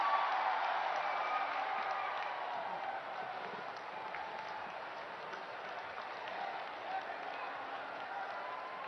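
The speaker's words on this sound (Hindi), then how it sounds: "बहुत जोरदार तालियों के मध्य उनका स्वागत करें" Sustained applause from a large crowd welcoming the Prime Minister at a public ceremony in Uttar Pradesh, a broad steady wash of clapping that eases slightly partway through.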